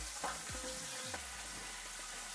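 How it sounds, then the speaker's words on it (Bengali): Bengali bata fish frying in oil, a steady, soft sizzle with a couple of brief scraping or stirring sounds near the start. "মাছ কটা ভাজা হোক"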